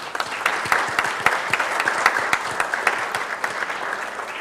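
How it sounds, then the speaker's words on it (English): An audience claps for an artistic merit award winner at a live juried art competition, lively applause of many hands with distinct sharp claps standing out, steady and fairly close for the whole stretch. "round of applause."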